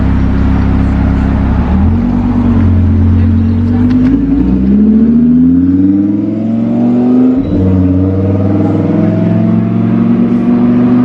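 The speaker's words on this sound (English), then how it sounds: "That is a good sounding engine, isn't it? DBS is doing a few revolutions." An Aston Martin DBS engine revs at a classic car show, a loud, close, continuous engine note that climbs and drops in pitch through several revolutions, with no talking over it.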